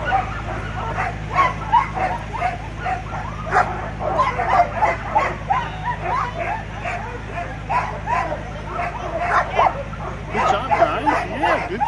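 Sled dogs at a dog sledding camp in Skagway, Alaska bark, yip and whimper in a busy, continuous chorus of overlapping calls close by, with people's voices mixed in.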